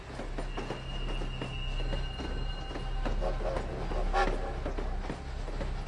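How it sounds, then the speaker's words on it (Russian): A railroad car rolls on rails through Germany toward the Baltic coast with a steady low rumble, faint rhythmic clicks and a brief squeal near the end, moderately close. "по железным дорогам Германии двигался к Балтийскому побережью необычный вагон"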